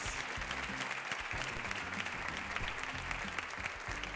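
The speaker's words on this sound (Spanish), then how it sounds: "Este aplauso es para vosotros" A large theatre audience applauds an orchestra at a gala, dense steady clapping filling the hall with a low bed of music or crowd murmur underneath, sustained and loud throughout.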